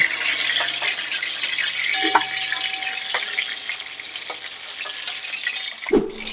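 Pointed gourd (potol) frying in oil in a covered wok, a steady close sizzle with scattered crackles, a few clinks and a sharp clatter near the end.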